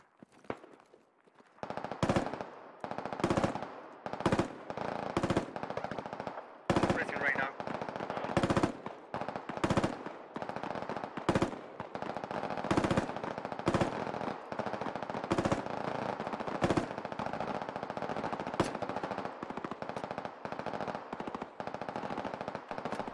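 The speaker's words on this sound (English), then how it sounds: "We're getting shot at. We can use a little bit more covered fire." Rapid automatic gunfire in the tactical shooter game Squad, bursts of machine-gun fire and single shots cracking repeatedly and loud over a steady battlefield din for the whole stretch.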